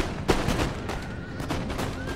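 Artillery and gunfire boom in battle in the game Empire: Total War, a cluster of sharp thumping shots and crackling volleys over a dense roaring battlefield din.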